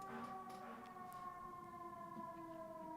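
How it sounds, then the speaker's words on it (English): A loud wailing ambulance siren passing in the street, with steady, sustained tones holding for the whole stretch, with no talking over it. "Do you hear that fucking ambulance?"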